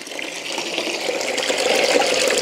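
Warm water gushes steadily from a tap into a plugged tub, a dense, full splashing rush that swells slightly louder toward the end, with no voices.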